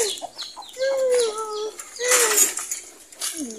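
Chickens and little chicks on a farm give a run of close, rising and falling peeps and clucks, several overlapping calls with short pauses between them.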